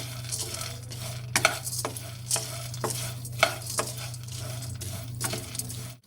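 Dried dates (chhuhare) dry-roasting in a pan without oil for flax seed laddu, with a spoon scraping and clinking against the metal at an irregular pace over a steady low hum, no voices.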